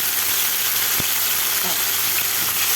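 Meat frying in a spoonful of oil in a pan gives a steady, even sizzle throughout, with one brief thump partway through.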